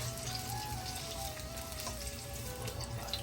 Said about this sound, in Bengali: বেগুনগুলো ভাজা করে নিচ্ছে, দিচ্ছে সামান্য পরিমাণে হলুদ আর সামান্য নুন।